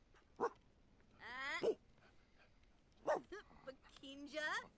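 A puppy in The Sims 4 gives a few short yips and barks with some panting, mixed with animated game-character voices, in quick bursts separated by brief pauses.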